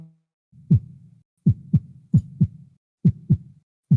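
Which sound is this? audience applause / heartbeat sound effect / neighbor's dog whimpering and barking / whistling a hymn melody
heartbeat sound effect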